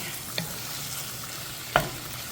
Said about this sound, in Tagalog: Lagay ko na yung giniling.